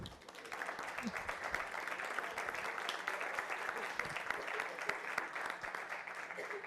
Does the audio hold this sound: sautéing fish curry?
no